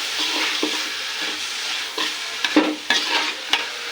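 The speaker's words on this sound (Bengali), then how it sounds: "শাকগুলো নেড়ে ছেড়ে ব্যাস কিছুক্ষণ পর" Gourd leaves being stirred into onions frying in a pan: a steady sizzle runs throughout, punctuated by several sharp scraping and clanking strokes of the spatula near the end, close and clear with no talking.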